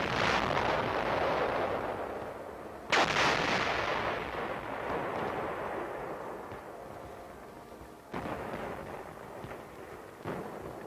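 A big artillery gun on a winter front line fires loud booming rounds, several heavy blasts spaced a few seconds apart, each trailing off into a long rumbling decay.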